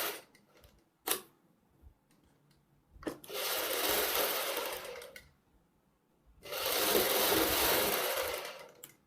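An electric sewing machine stitching the neckline of a kurti, running in two steady whirring bursts of a couple of seconds each, separated by quieter handling clicks and fabric rustle.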